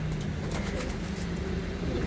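Kamgar pigeons coo softly in a steady low murmur, close by, with faint chirps and a constant background hum.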